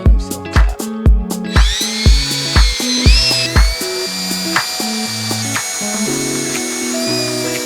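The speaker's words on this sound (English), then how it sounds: "These are self-tapping screws, so I'm going to let them self-tap." A power drill drives self-tapping screws while a truck camper power upgrade is installed, giving a burst of sharp ratcheting clicks followed by repeated whirring motor pulses that rise and fall in pitch as each screw bites in, close and loud.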